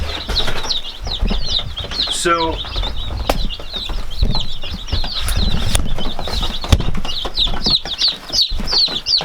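Baby chicks in a brooder chirp constantly in quick high peeps, with rustling and a brief flutter of wings close by, and a voice can be heard faintly at times.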